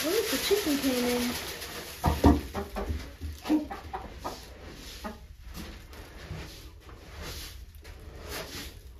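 Chickens cluck and squawk in short bursts near a barnyard, with a person talking and rustling sounds mixed in.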